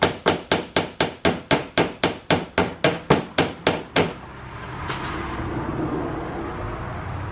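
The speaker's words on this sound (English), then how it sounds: "I gotta grab a hammer quick." A hammer strikes a stuck bumper clip on a Subaru WRX in a quick, even run of about fourteen sharp metallic knocks, close and loud, before fading into quiet room noise.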